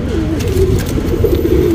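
Geerva and Guldhar pigeons coo close by, a low, throaty, continuous warble under steady background noise.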